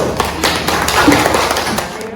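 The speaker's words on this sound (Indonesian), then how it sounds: "Masih tepuk tangan untuk kelompok 1." A classroom group claps for the first group after its presentation, giving brief scattered taps and thuds of applause, with a voice talking over them.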